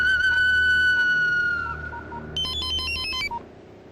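A mobile phone ringtone plays in a Telugu romantic comedy film scene, a loud sustained electronic tone followed by a quick rising melodic chime pattern, heard alone without talk.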